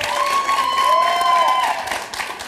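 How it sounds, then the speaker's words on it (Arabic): An audience at a family gathering claps, a dense burst of applause that swells and then thins out, mixed with a sustained sung or ululated tone over it. "صفقوا عليهم"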